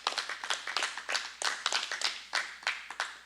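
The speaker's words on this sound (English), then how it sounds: "just give the Lord a hand clap for you guys." A church congregation claps along, giving sharp, fairly even beats of handclaps in a quick rhythm, moderately loud and close, with no talking over it.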